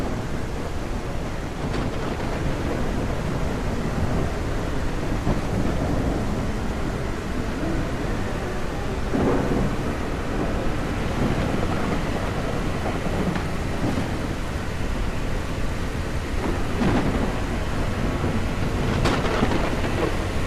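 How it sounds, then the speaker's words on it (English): A heavy thunderstorm in the video game SurrounDead brings constant loud rain with deep rolling rumbles of thunder swelling at intervals, no talk heard. "It's a hell of a storm."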